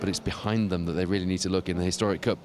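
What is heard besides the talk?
No distinct noise like a dog, phone or traffic.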